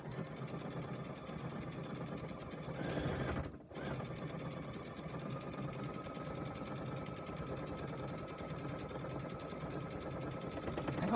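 A sewing machine stitches steadily at a constant whirring hum, broken by one brief pause of a fraction of a second before the run carries on unchanged. It stays close and fairly quiet, with no one talking over it.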